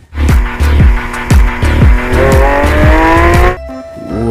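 Toy blue Lamborghini sports car with a sound feature plays a loud recorded engine: repeated revving bursts roughly every half second, then a rising sustained rev that cuts off abruptly near the end.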